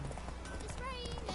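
Clip-clopping horse hooves in Witcher 3 trot along steadily at moderate volume beneath a continuous bed of game ambience and music.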